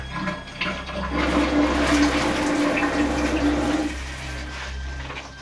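A bathroom toilet flushes with a loud rush of running water that swells, holds for a few seconds with a tonal whine, then cuts back to a quieter trickle and low hum.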